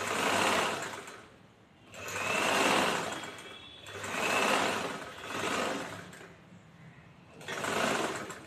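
A sewing machine stitches a chudithar hem in five steady whirring runs, each a couple of seconds long, separated by brief pauses, close and clear with no talk.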